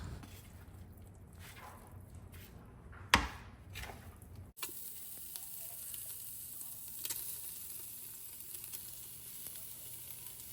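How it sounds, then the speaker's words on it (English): Tenderized meat coated in cornstarch sears in an Instant Pot, a steady close sizzle running throughout after a few sharp knocks and a clatter early on. "I'm going to sear it in my InstaPot here"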